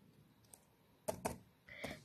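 Web address typed on a computer keyboard: a few quiet, spaced clicks, then two louder key strikes close together and a short final cluster of taps, faint and close.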